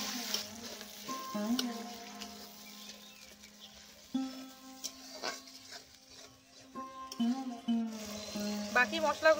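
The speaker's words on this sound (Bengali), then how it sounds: "এখন আমি এখানে পেঁয়াজ বাটা দিয়ে দিচ্ছি, টমেটো বাটা," Onion, tomato and ginger-garlic pastes fry for prawn malai curry, giving an intermittent crackling sizzle with sharp pops, partly under a tonal melodic background.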